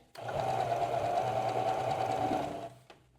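Sewing machine stitching a jumpsuit seam, running steadily and loudly at close range for nearly three seconds with a constant whirring hum before stopping abruptly, no voices.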